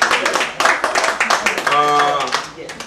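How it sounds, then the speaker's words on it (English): An audience at a Boston Haitian community event claps, with quick, uneven hand claps running steadily at close range while a voice carries on over them, and the clapping thins toward the end. "Let's give them a round of applause"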